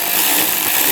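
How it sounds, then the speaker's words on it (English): Worm clamps on the airbox hoses of a 2015-2020 GMC Yukon XL being tightened with a power driver, a loud, close, steady whirring buzz lasting about a second with no speech. "Tighten down the worm clamps."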